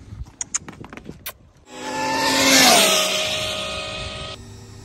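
A dual-motor Tesla speed RC car launches on its first run of a new build with a rising electric whine that peaks and fades, after a few sharp clicks and clatters.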